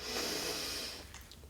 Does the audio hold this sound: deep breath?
yes